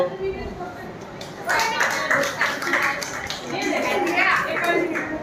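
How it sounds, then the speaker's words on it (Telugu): Clapping from a group of trainees at a teacher-training session in a school hall, a patter of hands that swells partway through and continues steadily, mixed with background voices and children's chatter. "చప్పట్లు"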